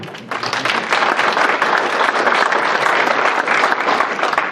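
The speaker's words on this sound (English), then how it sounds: "Let's give them a round of applause if you don't mind." A solar energy workshop audience in Clayton County breaks into dense, loud applause that starts after a brief lull and holds steady to the end.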